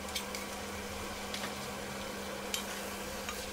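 Tomatoes and tomato paste sauté in a pan for lentil soup, a faint continuous sizzle with a few brief scrapes and clicks of stirring over a low hum.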